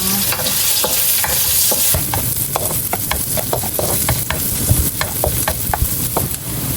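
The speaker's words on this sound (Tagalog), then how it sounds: "Magigisa na po tayo ng luya, ng sibuyas at bawang." Ginger, onion and garlic sautéing in hot oil, a steady loud sizzle with a string of sharp clicks and scrapes from stirring throughout, heard alone with no voices.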